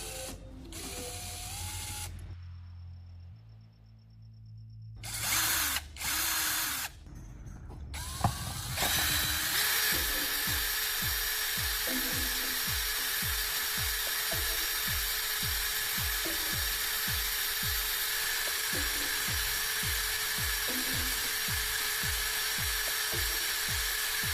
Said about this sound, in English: I'll round off one end of the battery core by mounting it on a drill and sanding it with sandpaper